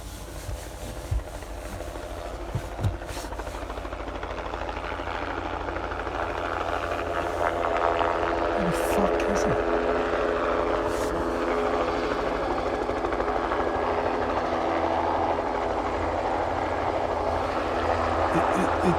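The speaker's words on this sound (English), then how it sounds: "Except for the helicopter." Helicopter flying overhead outdoors, a steady loud rotor drone that builds slightly and holds through the whole stretch, with brief speech over it.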